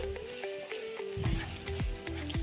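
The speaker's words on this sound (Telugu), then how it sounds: "ఇందులోనే కొన్ని టమాటా ముక్కలు, ఇవి బాగా వేగేంత వరకు ఇలా కలుపుతూ ఉండాలి" Tomato pieces fry and sizzle in oil in a pan while being stirred for a kaju paneer curry, with scraping stirs marking a steady rhythm over the continuous close crackle.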